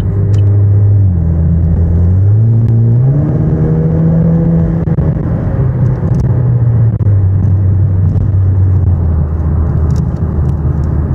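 A 2018 Camaro with an automatic eight-speed and 2.0 turbo engine, fitted with a cold air intake and muffler delete, drones loudly from inside the cabin, its pitch rising through gears then easing back to a steady rumble.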